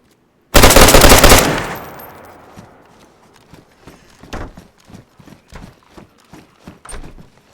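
A single loud burst of rapid automatic gunfire from a video game gun erupts and rings out for about a second, then fades into a string of quieter clicks and footstep-like taps.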